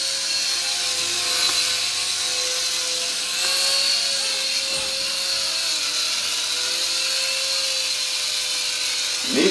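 Small RC mini helicopter hovering nearby, a steady high-pitched motor whine with a wavering tone and a constant rotor buzz throughout, with no talking.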